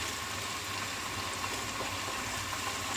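French fries frying in hot oil give a steady, even hiss and crackle of bubbling that runs unbroken throughout, with no voices over it.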